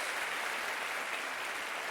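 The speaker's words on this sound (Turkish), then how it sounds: "büyük bir alkış" A studio audience on a Turkish television talk show claps steadily throughout at a moderate, even level, with no talk over it.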